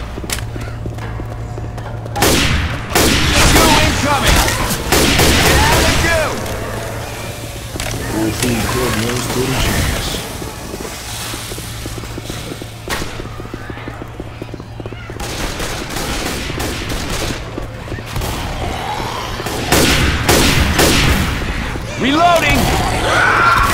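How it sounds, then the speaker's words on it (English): Loud, repeated bursts of rapid gunfire and automatic weapon fire from the video game Left 4 Dead 2, with some thuds, continuing across the whole stretch while voices talk over it. "Watch where you're shooting!"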